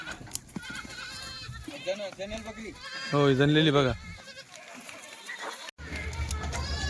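Kathiawadi goats bleat nearby in several wavering, quavering calls, one long loud bleat standing out, while people talk over and between them.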